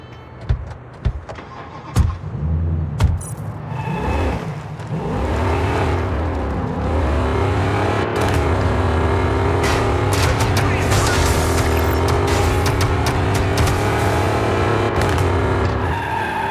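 Car in the Gangster Mirage City video game driving hard and accelerating, a steady loud engine roar with revving, sharp impacts and tire skids early on, continuing without pause.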